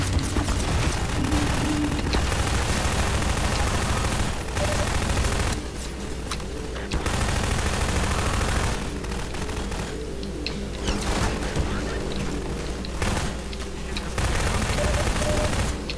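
Sustained rapid gunfire in Half-Life 2, dense automatic bursts rattling almost continuously with brief gaps, loud and close over a low rumbling background.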